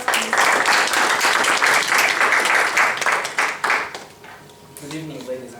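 Audience applause welcoming a comedian to the stage, steady dense clapping for about four seconds that thins and fades, followed by a brief voice as it dies away.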